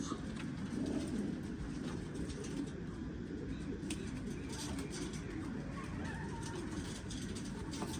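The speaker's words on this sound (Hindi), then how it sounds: "ये मेरा जेठ वाला कबूतर 555।" A domestic pigeon kept by a pigeon fancier coos in low, repeated throaty rolls close by, with faint background noise and a possible hint of voices.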